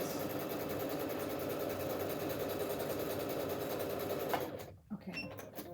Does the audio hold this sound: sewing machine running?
yes